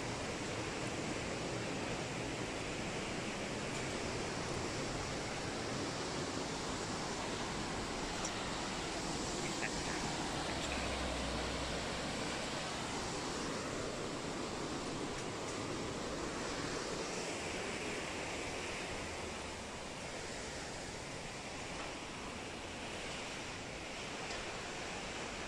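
Steady, powerful rush of water in the Geisterklamm gorge at Leutasch, a dense unbroken roar that fills the whole stretch at an even loudness.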